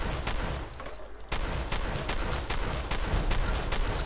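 Combat shotgun blasts at a ghoul in Fallout 4, a dense run of sharp, loud gunfire reports repeating in quick succession with a brief lull early on, busy game noise throughout.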